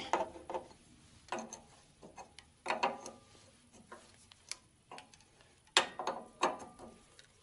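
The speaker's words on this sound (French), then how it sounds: "clé de 24, clé de 23 et serrage provisoire de ce dernier" Wrenches in 24 mm and 23 mm snug front suspension parts on a torsion-bar front axle, giving a series of close metallic ratcheting clicks and clatters in bursts with short pauses between.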